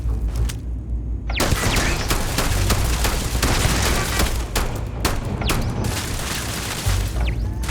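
Rapid weapon fire from laser turrets in the space game Starfield, a dense, loud barrage of sustained shots and impacts that starts after about a second of quiet and continues with brief lulls.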